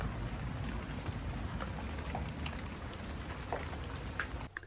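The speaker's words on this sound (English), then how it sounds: "Rain. It looks like it'll only last maybe a few minutes." Steady rain falls on an outdoor skate spot, a dense continuous patter of drops on hard surfaces that holds even throughout and cuts off near the end, with no voices.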